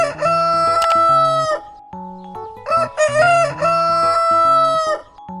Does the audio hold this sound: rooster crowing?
yes